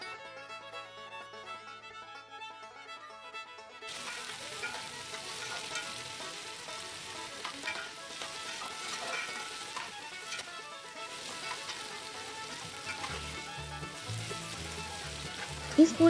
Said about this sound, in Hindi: अब हम इसमें प्याज ऐड कर रहे हैं, ये देख लीजिए। और फ्लेम हम लो टू मीडियम रखेंगे और चम्मच चलाते रहेंगे